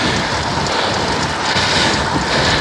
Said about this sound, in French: Systématiquement on se prend le vent dans le nez.